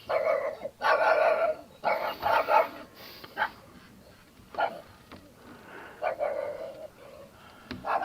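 Several dogs bark and yip outdoors in the Cornish countryside at a B&B, in repeated bursts at moderate distance with short gaps between them.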